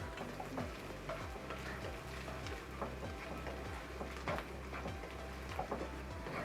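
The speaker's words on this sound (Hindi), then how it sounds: "1 टेबल स्पून लहसुन अदरक का पेस्ट है ये, इसका कच्चापन दूर होने तक इसे फ्राई करेंगे प्याज के साथ" Onions frying with ginger garlic paste in a pan: steady soft sizzle with light ticking and stirring taps, faint and close, no talk.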